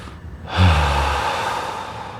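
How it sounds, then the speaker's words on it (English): Slow, deep breath during an at-home stretching routine, a long steady airy rush that swells and then gradually fades, close and clear with no talking. "deep inhales, followed by an exhale"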